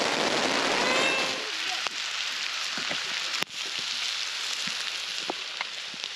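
Rain pours down on a campsite during a storm while dinner cooks over a campfire, a dense hiss that is loudest at first and then settles into a steadier patter with scattered drops.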